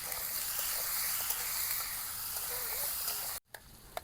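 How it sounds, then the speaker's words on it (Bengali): Potatoes and jackfruit seeds frying with salt and turmeric for a Bengali prawn recipe. The sizzle is a soft, steady, even hiss that carries on unbroken, then cuts off abruptly near the end. "লবণ আর হলুদ দিয়ে ভেজে নেব।"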